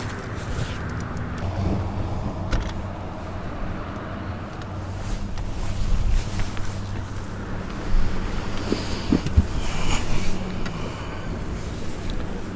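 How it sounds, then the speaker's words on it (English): A boat engine idles close by on a lake during winter bass fishing, a low steady drone under gusting wind and water noise, with a few knocks and splashes. "There was a boat idling right behind me."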